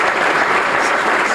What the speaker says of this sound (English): How about a little round of applause for Steve?